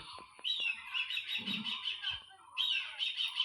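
Pet birds that were set free but have come back call in bursts of bright, sharp squawks and chirps. Two busy stretches are split by a short lull, and the birds sound fairly close with no talking.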